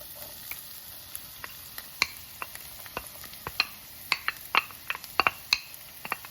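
Onions frying in heated olive oil give a soft steady sizzle with scattered crackles and pops, plus a few sharper spits building toward the end. The sound is fairly quiet and close, with no voices.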